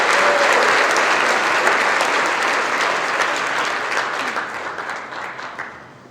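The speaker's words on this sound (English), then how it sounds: "And just one more round of applause for Marcelino and all the amazing things tha" A room full of guests at a charity breakfast gives a dense, steady round of applause that gradually fades out over about six seconds, with no talking over it.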